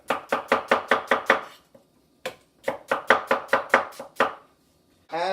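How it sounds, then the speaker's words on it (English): A knife chops onions on a cutting board in quick, crisp, evenly spaced strokes in two bursts of about eight cuts each, close and clear with a short pause between bursts. "As you cut up one face, you can just flip it over and keep slicing."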